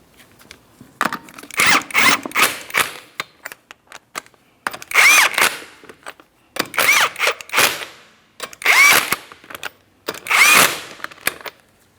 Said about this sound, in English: I'm going to be torquing each one of my lug nuts to that 100 foot-pounds in a crisscross manner